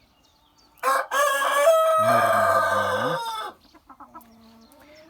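A Minorca rooster crows loudly and close, a long drawn-out call, followed by a few soft clucks from Minorca hens as it fades.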